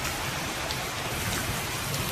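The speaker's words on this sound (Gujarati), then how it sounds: "ચોથો દિવસ છે મિત્રો વરસાદ આવે છે." Heavy rain pours down in a steady, dense wash of patter on surfaces, loud and continuous for a couple of seconds with no voices.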